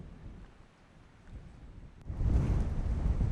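A strong dawn wind buffets the microphone at a Jeju harbor in darkness, waves surging alongside it and swelling louder partway through into a heavy rushing roar.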